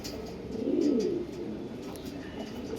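A pair of black Andhra pigeons coo close by, one low rolling coo swelling in the middle of the clip over a quiet background of faint rustling, no speech.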